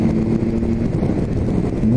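A Triumph Tiger 1200 Alpine Edition motorcycle cruises gently with its engine held near 4000 rpm, giving a steady, even drone with light wind noise and no change in pitch.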